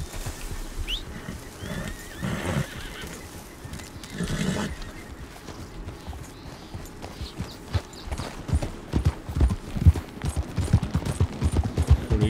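Horse hooves clip-clop with occasional whinnies in the Red Dead Redemption 2 game, starting as a quieter mix and then building into a rapid, loud hoofbeat rhythm over the final seconds, with no talking.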